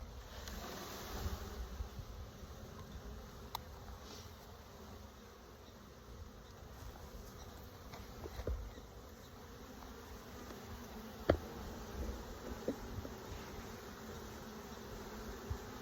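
A dense, continuous hum of many honeybees buzzing close by as a bee package is installed into a hive, with occasional faint taps and rustles.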